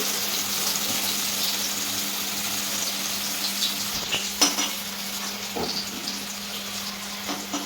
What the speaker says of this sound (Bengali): হালকা ভেজে নিয়ে তুলে নেওয়া হলো।